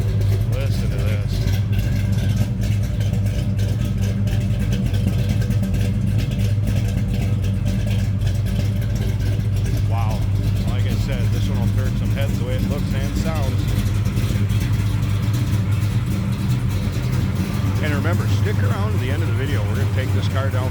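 A 1964 Plymouth Savoy engine idles steadily from behind the car, a low continuous rumble with a few light revs later on, moderately loud and close while someone talks over it.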